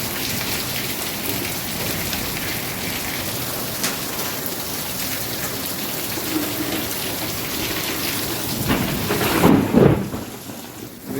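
Heavy rain with hail pelting down during a thunderstorm, a steady dense roar throughout, with a louder crack of thunder near the end.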